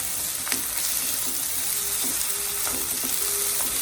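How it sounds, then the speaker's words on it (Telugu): Curry leaves and ginger garlic paste fry in hot oil, giving a steady broadband sizzle with a few soft scraping stirs and light clinks, close and continuous with no voices. "ఇప్పుడు కొద్దిగా కరివేపాకు వేసుకొని అలా కలిపేసుకొని అల్లం వెల్లుల్లి పేస్ట్ ఒక 2 స్పూన్లు వేసుకొని నూనె వేరుపడే వరకు ఫ్రై చేసుకోవాలి"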